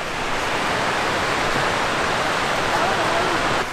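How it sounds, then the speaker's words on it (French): A waterfall pours down in wintry Iceland, a steady, dense rush of falling water that stays loud and even throughout, with no voices. "on est encore en train de faire des cascades"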